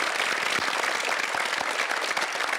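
An audience applauds at a school valedictory closing ceremony, continuous crowd clapping that holds at an even level throughout, fairly close and unbroken by speech.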